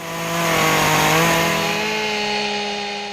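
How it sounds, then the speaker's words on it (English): A chainsaw carves into wood, its engine whining loudly and steadily in a high, buzzing drone that swells up then holds, close and alone without speech. "This world-renowned chainsaw carver mesmerizes audiences with a unique talent for transforming nature's leftovers"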